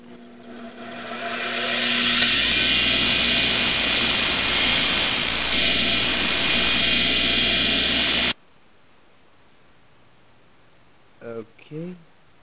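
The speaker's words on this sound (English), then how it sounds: "all I gotta do is just grind it out" A bench grinder grinds a homemade metal lock pick, a loud steady high-pitched whine holding for about eight seconds before cutting off abruptly, followed by a couple of faint brief knocks.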